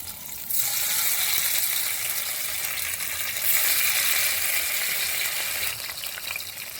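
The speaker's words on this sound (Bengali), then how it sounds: "গরম তেলে পনিরগুলোকে একটু ভালো করে লাল লাল করে ভেজে নিচ্ছি" Paneer pieces frying in hot oil in a wok give off a continuous, fairly quiet sizzle that holds steady throughout with no voices.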